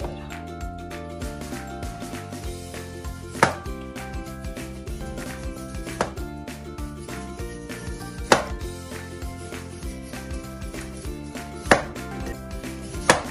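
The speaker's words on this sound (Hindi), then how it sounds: "अब इसकी कटिंग करते हैं।" A knife chops through a frozen chicken doner kebab roll on a board, with sharp, loud cuts landing every few seconds over a dense, steady background.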